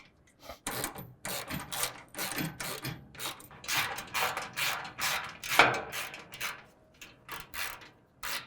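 Ratchet wrench with a 13 mm socket tightening the bolts of a RealTruck Ascend rack on a 2024 GMC Sierra 1500, heard as repeated bursts of clicking strokes with short pauses between them, close and fairly loud.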